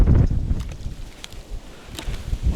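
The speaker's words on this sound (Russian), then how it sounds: "Ветер шквалистый." Gusty wind buffets the microphone while someone fishes with a lift net for crucian carp, making loud low rumbling surges that rise and fall with brief fluttery bursts, and no voices are heard.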